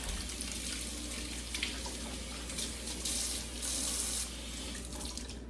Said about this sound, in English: Same thing, I'll just kind of rinse off the pot.